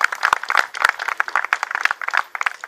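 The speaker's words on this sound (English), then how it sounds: "let's just have a round of applause for all these wonderful people" Applause from an audience at a milestone celebration for the historic Cracker House in St. Joseph, Missouri: dense, steady clapping from many hands that fills the whole stretch with scattered sharp claps.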